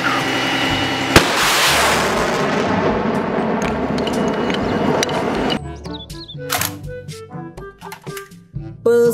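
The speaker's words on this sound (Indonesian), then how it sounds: "mobil, truk, militer, pembawa roket." A toy military rocket launcher truck fires with a sharp bang followed by a long loud hissing whoosh of rocket sounds, then quieter clicks and electronic tones near the end.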